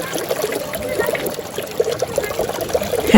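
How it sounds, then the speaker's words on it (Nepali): Water-driven rotating stone ball fountain in a park, a close, continuous trickle and dribble of running water with small splashy spikes throughout, fairly loud with no clear voices. "पानीले घुमाउने गोला राख्दछ"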